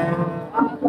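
Cow mooing at a village cattle market, a loud close drawn-out low moo with a second rising call at the end.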